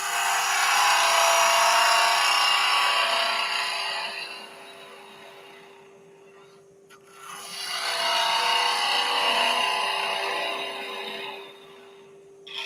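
Carbide tool or scraper hollowing a wooden egg cup on a spinning wood lathe makes a hissing, rasping cut with a steady motor hum under it, fading mid-pass and then swelling again, close and alone.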